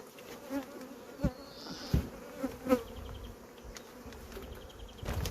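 A steady buzz of honey bees swarming around a hive during transfer to a new base, heard close with soft thumps and knocks of hive parts being handled.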